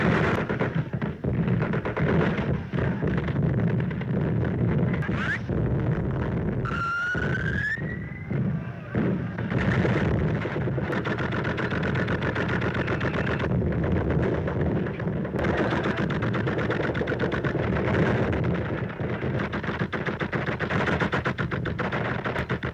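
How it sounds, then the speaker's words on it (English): Machine gun fire in a 1930 war film rattles in rapid continuous bursts with booming artillery, loud and sustained throughout, and a rising whistle-like tone about a third of the way in. "Machine gun is rolling."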